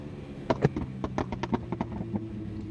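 A tuned Suzuki GSX-R 1000 motorcycle's exhaust popping and backfiring in a rapid irregular string of sharp bangs, close and loud, trailing off after a couple of seconds.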